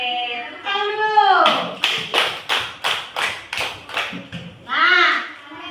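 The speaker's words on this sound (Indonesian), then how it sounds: "Oke, tepuk dulu." Classroom of children clapping a rhythmic patterned clap led by a teacher, about ten sharp evenly spaced claps in a row, with a woman and children chanting before and after.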